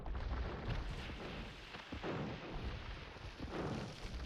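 Cannon galleons firing in Age of Empires, a dense run of booming cannon shots and rumbling impacts layered together, steady and fairly faint.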